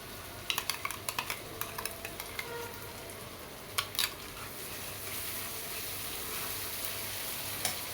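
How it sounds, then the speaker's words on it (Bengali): Dry spices and ground nut paste fry in a pan for an egg korma, making a continuous close sizzle, with a quick run of spoon clinks against the pan at the start and a couple more later. "বাদাম বাটাগুলো দিয়ে দিচ্ছি।"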